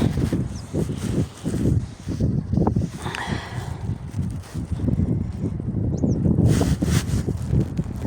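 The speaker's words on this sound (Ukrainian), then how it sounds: "Дуже вітер, прямо не чути, що я говорю" Heavy wind buffets the microphone outdoors in a garden in rough, continuous low rumbling gusts, with brief rustles breaking through.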